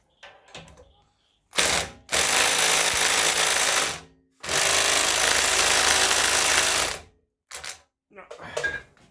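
A 127cc Cheetah lawn mower mowing, its engine roaring loud and close in two long sustained bursts separated by a brief gap, with short scrapes and knocks before and after.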